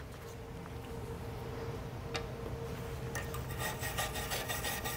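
A brush scrubs across an aluminum weld with a close, steady raspy rubbing that grows more rapid and scratchy toward the end.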